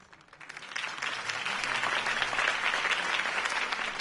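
Steady applause from a crowd at Harvey Dent's campaign speech in the Batman Telltale video game, rising over the first second and then holding as a dense, sustained clapping with no talk over it.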